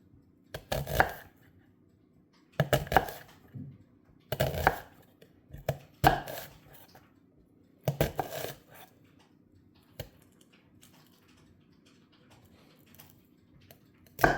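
Onion chopped with a knife on a cutting board for a sausage bake, six short bursts of quick, close taps separated by pauses, with a lone faint tap near the end.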